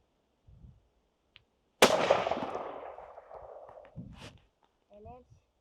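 A single sharp, loud rifle shot from a Christensen Arms Ridgeline 30-06 cracks out and rings off over a couple of seconds, with brief quiet voices before and after.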